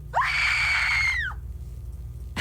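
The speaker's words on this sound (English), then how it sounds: "We want to hear you scream." A listener's scream plays over a radio contest broadcast: one loud, sustained high-pitched shriek lasting about a second, clipped off sharply and followed by quiet studio hiss.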